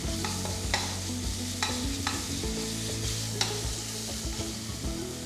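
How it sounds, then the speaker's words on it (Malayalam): Crushed garlic and ginger, about three-quarters of a tablespoon each, sauté in a pan for Donne chicken biryani, with a steady close sizzle broken by repeated scraping stirs of a spoon, with no talking. "നന്നായിട്ടൊന്ന് വഴറ്റുക."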